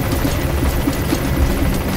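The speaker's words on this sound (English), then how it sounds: "Damn that chopper." Helicopter flying overhead in the Metal Gear Solid V: The Phantom Pain video game, a steady low rotor drone with faint rhythmic beating, continuous and moderately loud throughout with no talk.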